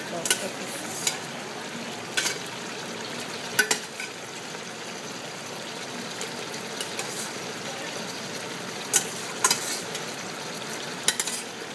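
Meat for okra stew fries and gets stirred in a pot, a steady low sizzle broken by scattered sharp scrapes and clinks of the utensil against the pot, with no talking.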